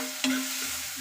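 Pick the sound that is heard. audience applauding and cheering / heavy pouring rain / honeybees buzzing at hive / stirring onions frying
stirring onions frying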